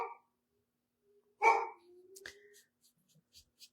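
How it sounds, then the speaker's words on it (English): A dog gives a single loud bark up close, followed by a few fainter, scattered yelps and small noises trailing off in an otherwise quiet setting. "There's the dog."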